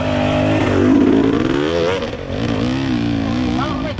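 A motorcycle revs hard and rises and falls in pitch at a hill climb contest in Tasikmalaya, close and loud, with people talking over it throughout.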